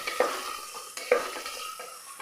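Garlic, ginger and green chillies sauté in a hot pan, a steady soft sizzle broken by two distinct scraping stirs about a second apart, with no voices.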